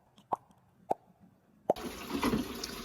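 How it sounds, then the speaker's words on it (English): Liquid for homemade fruit snacks poured from a blender pitcher into molds: three separate drips plop down, then a steady trickling pour takes over and keeps running to the end. "This blender pitcher is not the best for pouring."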